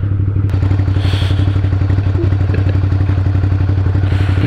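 A Scrambler motorcycle riding along, its engine giving a loud, steady low rumble with a fast even pulse, close up, with a brief knock and some wind rush over it, no talking.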